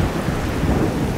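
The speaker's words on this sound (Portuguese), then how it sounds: "É só uma chuvinha de verão." A summer rain shower at a private beach, with thunder rumbling through a steady broadband wash of rain. The sound is loud and continuous, with no voices.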